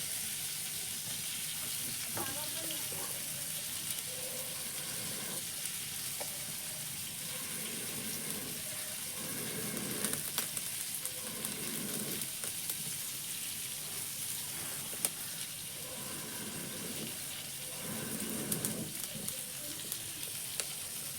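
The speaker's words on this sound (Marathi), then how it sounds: "चुलीवरचे मासे भाजूक जरा टाईमच लागतं" Bangda mackerel frying over a wood-fired clay stove, a steady close sizzle running throughout with bursts of stronger crackle and some watery spattering, no voices.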